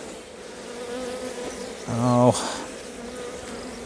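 Honeybees from a queenless colony buzz around an open hive in a UK apiary, a steady hum that swells into a brief, loud close buzz, with one short exclamation from a person.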